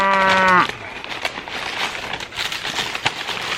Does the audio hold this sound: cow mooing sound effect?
yes